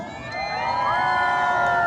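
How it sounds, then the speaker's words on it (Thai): A fan audience cheers and shouts for Minnie, the 3CE Asia Ambassador, at the Dream in Cashmere event in Bangkok, a steady loud crowd roar with high excited voices swelling over a couple of seconds. "ปรบมือกับมินนี่หน่อยได้ไหมคะทุกคน"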